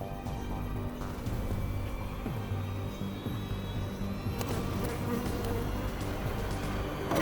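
Bees swarm around a beehive in a dense, continuous close buzz that holds steady and loud throughout, with a few faint knocks and handling noises mixed in.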